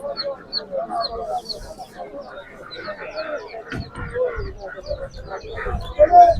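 Chickens and chicks at a busy poultry market, with clucking and chirping mixed through the steady murmur of people talking nearby.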